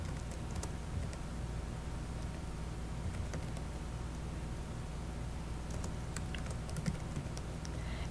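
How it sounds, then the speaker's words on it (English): Typing on a computer keyboard while entering a customer number into a Microsoft Access database: faint, scattered key clicks over a steady background hiss, with a small flurry of taps toward the end. "it says to type customer number"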